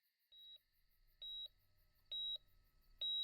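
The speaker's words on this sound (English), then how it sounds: "Just for a moment, I can hear a rhythmic beeping before it vanishes into nothingness." Rhythmic electronic beeps from a heart rate monitor in the video game Far Beyond the World. Four evenly spaced, clear tones sound alone and fairly faint, with a soft low hum underneath.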